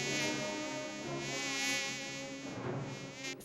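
A mosquito buzzes close by in Campo Verde, a thin, steady high-pitched whine with slight wavering pitch that continues for several seconds without speech.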